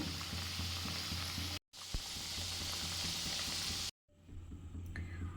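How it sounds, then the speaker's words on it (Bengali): Palm-leaf-shaped pitha deep frying in oil, a steady loud sizzle and bubbling broken by two brief silent cuts, ending quieter with faint clinks. "এগুলো এবারে ডুবো তেলে ভেজে নিচ্ছি"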